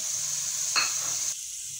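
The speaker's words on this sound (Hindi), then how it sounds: "अब मैंने जो टमाटर और ये हरी मिर्चों का पेस्ट बना कर रखा है वो ऐड कर रही हूँ इसके अंदर।" Tomato and green chili paste added to frying masala gives a steady, close hiss of sizzling oil with a brief wet splutter as the paste lands, then a quieter settled fry.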